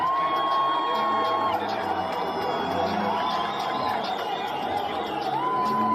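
Crowd at a live combat-sports fight event cheering and whooping in acclaim after the bout, a steady dense roar with scattered shouts and chatter throughout.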